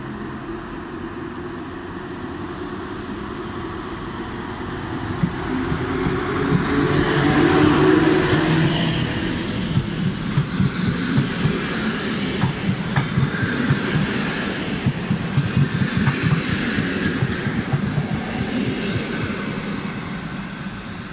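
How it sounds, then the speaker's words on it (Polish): A Regio passenger train from Sędziszów pulls into Katowice station, its rumble building and then settling into steady clickety-clack of wheels over rail joints, with faint squeals, loud and close for about twenty seconds. "Wjeżdża pociąg Regio relacji Sędziszów - Katowice."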